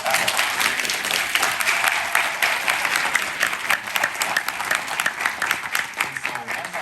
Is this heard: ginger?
no